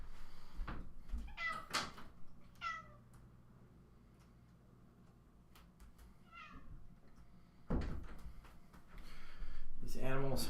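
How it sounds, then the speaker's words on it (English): A cat meows repeatedly to be let out, several short rising cries spread across the clip, with knocking or door sounds and some background noise in between. "my cat wants to get out"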